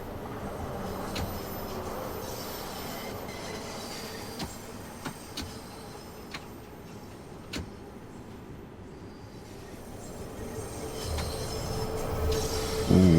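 A Bakerloo line 1972 Stock train in the Train Sim World 2 game rumbles steadily through a very tight curve, with scattered clicks and wheel squeal rising toward the end.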